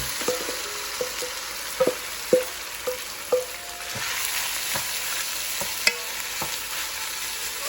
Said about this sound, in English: the pot is hot because I need to saute the beef. I need it to sizzle